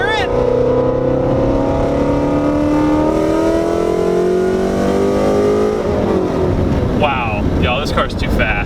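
A Ford Mustang GT350 with a naturally aspirated engine and full bolt-ons, making about 510 wheel horsepower, revs hard from inside the car, its loud rising engine note climbing steadily before shifting, with someone talking over it.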